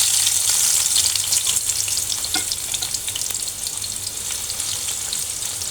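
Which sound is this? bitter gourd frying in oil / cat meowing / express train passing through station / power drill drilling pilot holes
bitter gourd frying in oil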